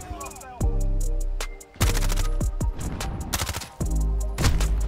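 Rapid bursts of MP5 submachine gun fire in a Call of Duty Modern Warfare match, loud, close staccato volleys broken by short pauses over a busy game soundscape.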